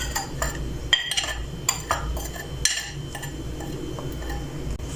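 Spices for homemade chaat masala, with black pepper, ajwain and amchur, stirred together in a metal bowl, giving steady close scraping and clinking of a spoon against metal with no talking.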